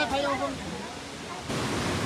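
The Huangguoshu Waterfall, China's largest, gives off a steady broadband roar heard from a walkway, with a voice talking over it at the start.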